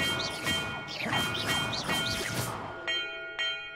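Bells struck during a puzzle in Hogwarts Legacy ring out as a series of overlapping metallic tones, several strikes in quick succession, then two sharper clear chimes near the end, all fairly close and without speech.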